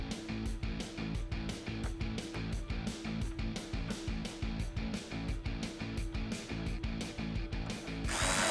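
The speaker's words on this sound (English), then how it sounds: "tighten them down with a 10mm socket" A hand ratchet with a 10mm socket tightens the upper bumper bolts on a 2005–2009 Mustang GT, giving a steady run of quick, close clicking strokes in repeated bursts with no talk.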